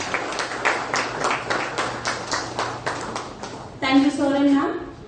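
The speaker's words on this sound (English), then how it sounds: "A huge round of applause for them" An audience claps for guests at a crime scene management workshop, a moderate patter of hands in a hall that fades after a few seconds as a voice takes over near the end.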